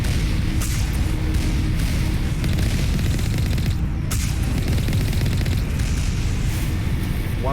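Turrets in the video game Mass Effect Legendary Edition are blasted apart in a dense barrage of explosions and rapid gunfire, loud booms and cracks layered continuously with no pauses.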